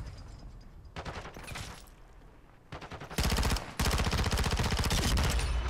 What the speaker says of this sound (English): Yeah, long range SMG snipe.